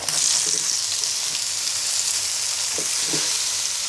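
Cabbage frying in a pan with salt and turmeric, a loud, dense, continuous sizzle with a few soft stirring scrapes near the end, close up and without talking.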